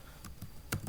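A few quick, crisp keystrokes clack on a computer keyboard while code is typed, close up and spaced unevenly within a single second.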